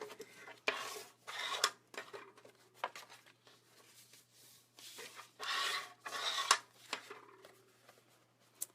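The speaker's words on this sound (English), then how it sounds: "So have a bone folder and just burnish all those edges." A bone folder burnishes the edges of a score-folded paper box, giving repeated close, dry rubbing and scraping strokes in irregular bursts, with small taps between them in a quiet room.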